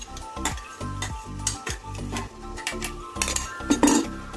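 Biryani masala frying in a pan while a spoon stirs it, with repeated rhythmic scrapes and clinks against the metal over a steady sizzle, close and fairly loud.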